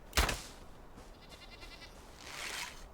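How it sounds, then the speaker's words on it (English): A goat in the survival game Enshrouded lets out one short, loud bleat near the start, followed by quieter rustling ambience and a faint hissing swell toward the end. "As you can see, the goat is still down there."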